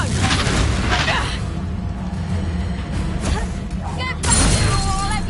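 Confringo fire spell blasts in the Hogwarts Legacy video game, loud booming whooshes and crashing impacts amid combat noise, with voices talking over the action.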